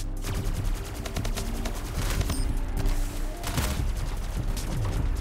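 Gunfire in the video game Splitgate, dense rapid shots and bursts going on continuously for several seconds, loud and close with busy game effects around them.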